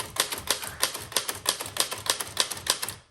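Typing on the white lowercase keys of a 1902 Smith Premier No. 2 double-keyboard typewriter: a steady run of about a dozen sharp, close mechanical clacks at an even rhythm, with no voices.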